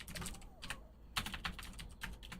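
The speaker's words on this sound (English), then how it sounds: "My keyboard's being so uncooperative typing at this awkward angle." Rapid keystrokes on a computer keyboard typed at an awkward angle, a close, irregular clatter of clicks in quick bursts with short pauses between them, and no voices.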